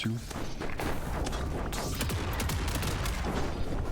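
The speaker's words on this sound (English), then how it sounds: "Lots of mortar hits." Mortar impacts in the naval combat game Down With The Ship, a dense barrage of booming thuds and crackling blasts in quick succession, close and loud without pause.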